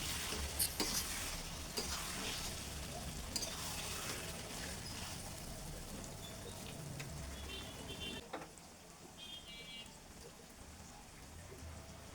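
Olive pickle with turmeric sizzles and fries in a pan over medium-low heat as a spoon stirs it repeatedly, producing a steady close crackle with occasional scraping clicks.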